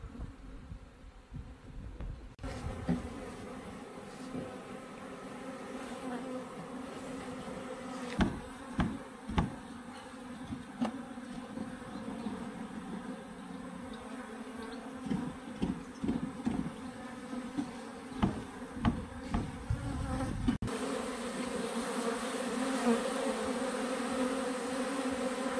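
A bee swarm enters a beehive, filling the air with a dense, close, continuous buzzing that wavers in loudness throughout, with no voices.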